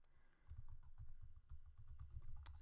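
Quick, irregular keystrokes clatter on a computer keyboard, a close, soft stream of clicks with brief pauses and no talking.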